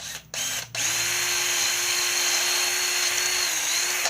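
A power drill bores a half-inch hole through a fidget spinner with its bearing removed, a brief start and stop then a steady high whine held close and loud for several seconds.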